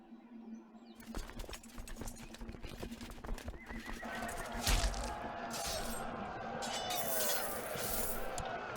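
Horses gallop in a battle in the video game Crusader Kings II, with dense hoofbeats and whinnies that rise after a quiet start and stay loud and busy over other battle noise.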